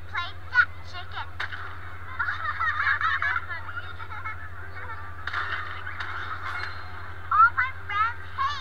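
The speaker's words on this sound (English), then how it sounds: "Let's play that chicken." A rubber chicken toy squawks repeatedly in loud, honking bursts over a steady low hum, with scattered voices and laughter mixed in.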